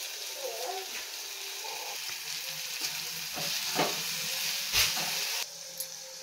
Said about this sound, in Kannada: ನೆಕ್ಸ್ಟು ಸಬ್ಸಿಗೆ ಸೊಪ್ಪನ್ನು ಹಾಕ್ಕೊಂಡು ಇದನ್ನೊಂದು 2 ನಿಮಿಷಗಳ ಕಾಲ ಫ್ರೈ